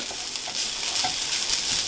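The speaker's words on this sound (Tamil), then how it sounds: "ஹீட்டை மீடியத்தில் வச்சு வறுத்தெடுங்க. இது பொன்னிறமாக வறுத்தெடுக்கணும் நீங்கள்." Crab curry ingredients, likely grated coconut, frying over medium heat and stirred until golden: a steady close hiss of sizzling with soft scraping strokes of a spoon through the pan, no voices.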